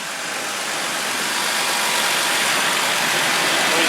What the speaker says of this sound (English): as you can hear, you know, it is a really good running truck.